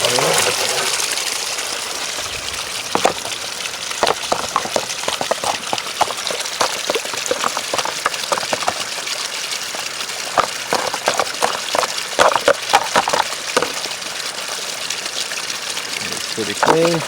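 Water splashes and pours off a filter screen as it is rinsed clean by hand, a steady gushing wash broken by irregular dripping and sharp splatter close by.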